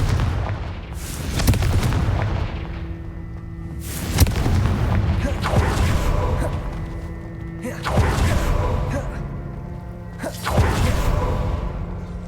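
Repeated Confringo blasting-curse explosions from Hogwarts Legacy boom out in several heavy bursts, each with a sharp crack and a rolling rumble that fades beneath continuous game ambience.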